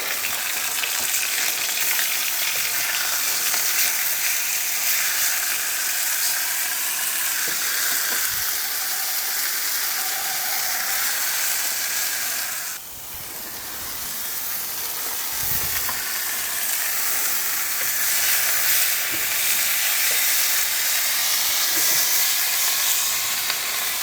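Steaks searing on a hot shovel give off a loud, continuous broadband sizzle that holds steady throughout, dipping only briefly partway through before surging back.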